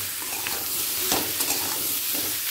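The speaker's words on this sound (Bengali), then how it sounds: "কুমড়োটা আলুর সাথে ভালো করে মিশিয়ে নেব আর হালকা লাল হওয়া পর্যন্ত অপেক্ষা করব" Pumpkin and potato pieces, with sliced green chili, fry in a pan and are stirred, giving a continuous close sizzle with scraping stir strokes and no talking.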